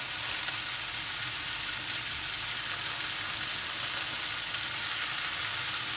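Tofu stir-fried in a wok while making laksa chicken fried vermicelli in Malaysia, a steady dense sizzle of oil with faint stirring underneath, close and continuous without talk.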